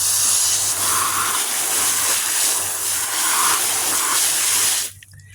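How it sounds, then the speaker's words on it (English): Water rushing from a garden hose into a pan in an outdoor duck pen, a steady close hiss that stops abruptly near the end. "I got a hose that just reaches here."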